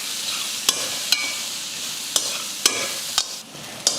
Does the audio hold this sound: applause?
no